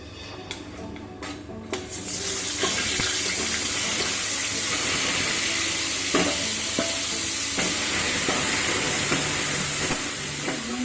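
Loud, steady sizzling of paneer frying in hot oil in a pan, starting with a few clatters and continuing with crackling pops throughout.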